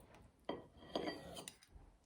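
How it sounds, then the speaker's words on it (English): Knife slicing through a block of tofu on a board, a few soft close taps and knocks spaced about half a second apart, fairly quiet with no talk. "Then I'm going to cut it into regular slices"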